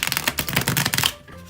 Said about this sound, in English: Here I am going to shuffle. I'll let you hear that.